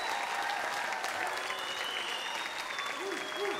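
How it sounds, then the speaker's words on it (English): Audience applause for Nutcracker dancers at the Palace Theater in Manchester, NH: a steady, dense wash of many hands clapping at once, holding an even level throughout, with faint tonal sounds drifting above it. "Let's give these guys another round of applause."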